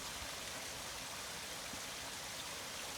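A hidden waterfall streams down rocks, giving a faint, even hiss of rushing water that holds steady in the distance without any voices.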